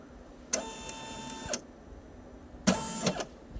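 A Brother PE 800 embroidery machine tracing a patch border, two bursts of whirring motor movement of about a second each with a quiet pause between.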